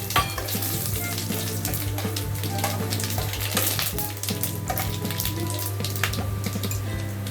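Bay leaves and dry whole spices sizzle and crackle in about three spoons of hot oil in a kadai, a loud steady frying hiss with dense popping and occasional stirring clinks close by.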